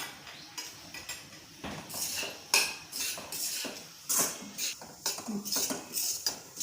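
Metal spoon scraping and clinking against a pan while moong dal roasts in ghee for halwa, a close, uneven rhythm of scrapes and taps with no talking.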